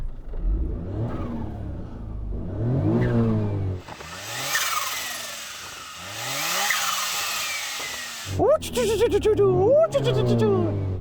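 A micro coupe's small car engine revs repeatedly, climbing and dropping in pitch with buzzy, rasping exhaust bursts, loud and close.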